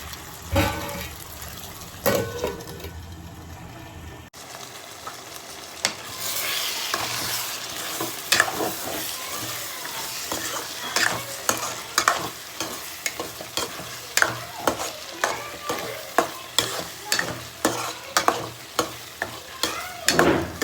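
Chicken curry bubbles and sizzles in a pot while a spoon stirs it, giving a loud hiss with repeated sharp scraping strokes that become rhythmic and more frequent toward the end.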